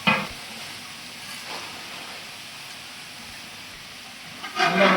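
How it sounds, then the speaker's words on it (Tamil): Onions sautéing in a pan for spicy chicken masala, a soft steady sizzle with a few scraping stirs near the start and a louder clatter at the end, no talking. "வெங்காயம் நல்லா வதங்கி வரணும்."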